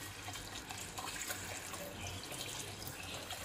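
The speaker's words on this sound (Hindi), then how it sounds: "तो दाल में डालेंगे हम पानी।" Water poured into a pot of dal in a home kitchen, a continuous, faint splashing stream of liquid with no talking.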